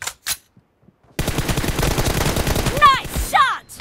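Gunfire in PUBG, a dense rapid burst of shots starting after a near-silent gap and continuing to the end, close and loud, with a voice briefly audible near the start.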